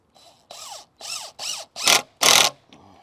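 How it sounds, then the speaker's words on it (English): A power tool whirs in six short bursts, the first ones with a rising-falling pitch, the last two louder and harsher, with brief pauses between. "Impact driver."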